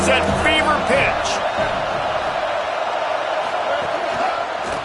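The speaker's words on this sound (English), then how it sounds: "this crowd is at fever pitch" A loud, steady crowd roar fills a college football stadium in an NCAA video game during a third-down play in the red zone involving Texas A&M, with faint commentary underneath.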